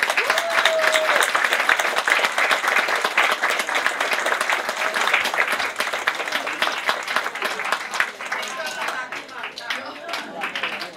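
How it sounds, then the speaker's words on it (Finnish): A crowd gives loud, sustained applause for staff at a Kannelmäki gathering, dense rapid clapping that fills the room for about eleven seconds before thinning slightly at the end, with a faint tone briefly audible early on. "Annetaan nyt suuret aplodit ja kiitokset."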